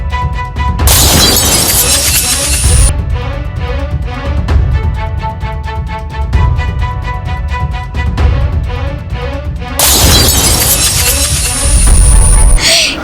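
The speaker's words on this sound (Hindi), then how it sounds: "गाड़ी का कांच टूट गया होता, टूट रहा है" Car window glass shatters loudly in a dramatic TV serial scene, two big broadband crashes bracketing a stretch of swelling music, with loud impacts and scattering glass near the start and again near the end.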